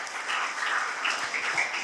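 A church congregation claps for God at a parish silver jubilee celebration, a short burst of dense, steady applause from many hands filling the room.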